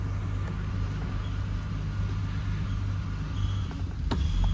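A 1973 Triumph TR6 engine idling slightly high and running a little rich, a steady low rumble that continues evenly, with a brief clatter near the end.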